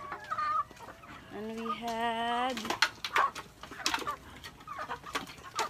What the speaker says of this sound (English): Our chickens are there.